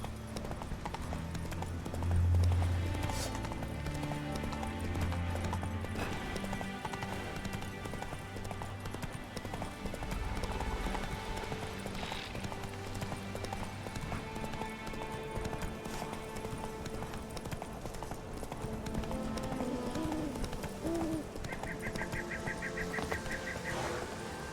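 Roach the horse gallops in Witcher 3, hooves beating a steady clip-clop rhythm for over twenty seconds amid game ambience and faint music, with occasional other game sounds.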